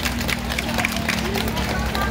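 Audience applause at a community song-and-dance competition in Taoyuan, Taiwan: steady, dense clapping from a crowd, moderately loud and continuous, over a low background hum.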